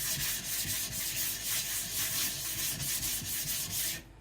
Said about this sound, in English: I'm also gonna do this just to make the stone cut a little faster by roughening up the texture